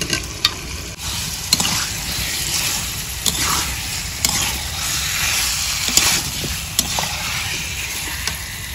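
Chicken and potatoes sizzling and frying in a pan for chicken bhuna khichuri, with steady loud hiss and repeated stirring scrapes and clinks throughout, no talk.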